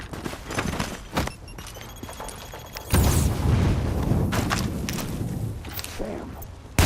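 A grenade blast in the video game The Division erupts midway as a sudden loud, broad roar that rumbles on for several seconds, after a quieter stretch of scattered knocks and game noise.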